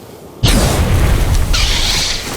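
Grenade blast in a video game: one sudden loud boom that rolls on as a dense, sustained roar, with a brighter crackling burst layered on partway through.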